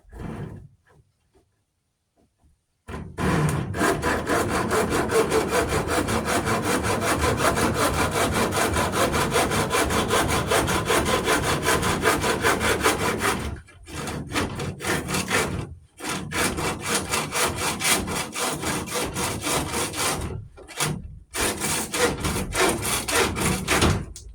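A handsaw cuts steadily through a wooden piece with rapid back-and-forth strokes, close and loud, after a short quiet start, with a few brief pauses between bursts of sawing.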